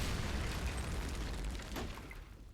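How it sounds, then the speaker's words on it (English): Anti-tank guided missile explosions in the Close Combat Modern Tactics game during a UN peacekeeping battle on a village highway, heard as a dense, continuous low rumble of booms with no distinct separate blasts. "You can actually hear the anti-tank guided missiles there"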